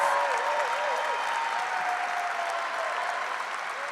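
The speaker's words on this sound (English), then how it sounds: "You may now applaud and congratulate our National Honors Award winners." Audience applause at a high school graduation ceremony for National Honors Award winners, a dense, steady wash of clapping from a large crowd that holds level throughout, with a faint tone running under it.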